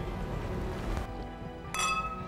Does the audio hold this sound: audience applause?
no